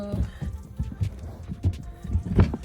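Horses moving about a yard built for wild horses, with uneven hoof thuds and knocks close by and a louder cluster of hits near the end, no talk.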